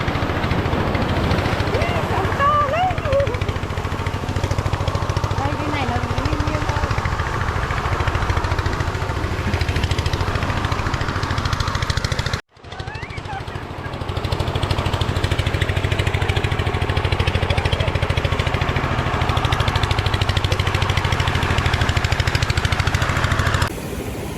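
A steady low drone of fishing boat engines returning to shore at a Vietnamese fishing village runs throughout, with faint voices in the background and a brief dropout midway.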